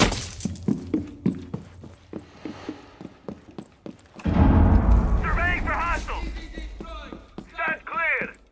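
A wall is breached in Rainbow Six Siege as a sudden heavy crash and rumble of breaking debris, after a run of sharp footsteps and taps, with voices talking over the aftermath.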